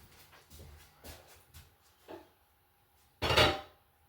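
Pot roast going into a crock pot: a few light clinks and knocks of cookware, then one louder clatter and scrape near the end, close by with no talking.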